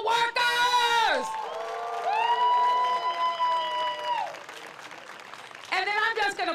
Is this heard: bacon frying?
no